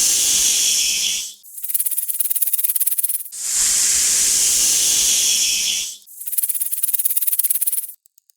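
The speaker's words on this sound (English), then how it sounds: "It's a snake." A snake hisses in three long, loud breathy bursts separated by short silent gaps, each hiss steady and close with no other sound around it.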